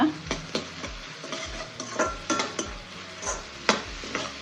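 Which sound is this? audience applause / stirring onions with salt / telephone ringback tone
stirring onions with salt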